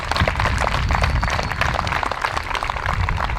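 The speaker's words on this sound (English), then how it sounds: "One more round of applause, folks." Dense, steady applause fills the air at the Lewisboro Baseball Association 2023 opening day ceremony: a crowd clapping continuously and fairly loudly throughout, with no break.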